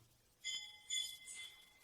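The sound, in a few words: bell hanging on an elephant's neck ringing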